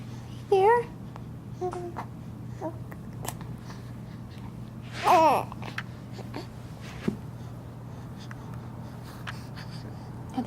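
A baby babbles and tries out new vocal sounds, with two short bursts of cooing and squealing a few seconds apart amid quiet breathing and small mouth noises, close and fairly soft.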